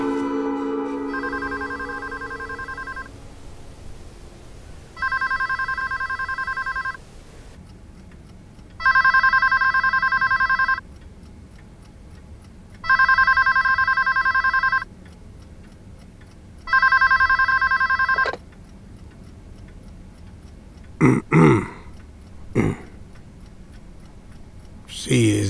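An old-style telephone rings in four loud, evenly spaced bursts with quiet gaps between them, then a few sharp clatters follow near the end.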